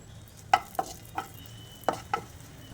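Finely chopped cashews and almonds fry in ghee in a small pan, with five sharp spoon clicks against the metal over a faint, quiet sizzle.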